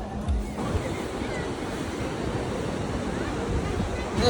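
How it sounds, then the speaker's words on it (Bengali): Sea waves and wind on Tajpur beach in the evening, a steady roar of surf with gusty wind noise on the microphone, close and continuous. "সমুদ্রের ভিউটা কেমন সন্ধ্যেবেলা"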